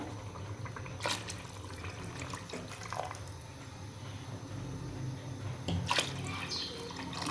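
About 3.5 glasses of water poured into a cooking pot for mixed vegetable pulao, a steady liquid wash with a few louder splashy bursts, close and fairly quiet, no talking.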